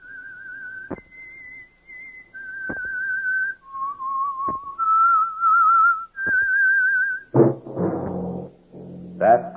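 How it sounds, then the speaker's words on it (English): A lone whistler plays a slow tune of held notes, each separated by a sharp click, before a sustained orchestral chord swells in at the end. "That whistle is your signal for the Whistler."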